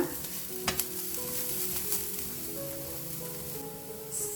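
Onions and masala frying and being stirred in a pan for a North Karnataka-style curry, a low continuous sizzle with a few soft clinks of the spoon against the pan, close up and without talk.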